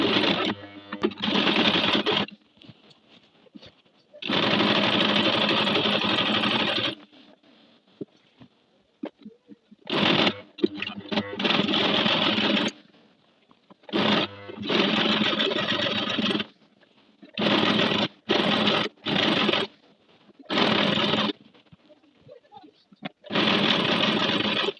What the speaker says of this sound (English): So I'll show you guys me using a sewing machine.